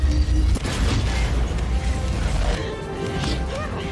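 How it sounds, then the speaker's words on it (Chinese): Energy blast explosion from a superhero sci-fi action scene: a loud crashing boom at the start, then a dense, sustained roar of rumbling, whooshing blast energy with mechanical clatter running through to the end. "卡罗尔被制服在地，他双手不断蓄能，最后将能量喷射而出，"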